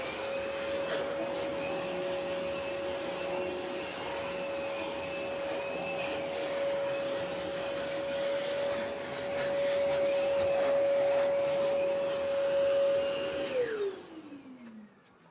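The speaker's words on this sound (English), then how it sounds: "Let's clean the stairs with the 0G." A Zero G cordless vacuum cleaner runs steadily while cleaning stairs, a loud constant motor whine with airflow hiss that swells slightly as it works, then spins down and fades at the end.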